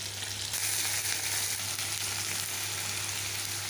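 Onion frying in a pan of oil tempered with kalonji seeds, together with garlic and green chillies: a steady, even hiss and crackle, close up and uninterrupted throughout.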